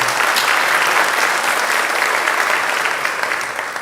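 A church congregation bursts into loud, continuous applause, thick and even from start to end before tapering slightly.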